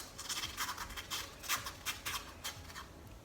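Brush softly scumbling wet black acrylic paint onto canvas, a series of quiet, close scratchy strokes in an uneven rhythm, with no talk.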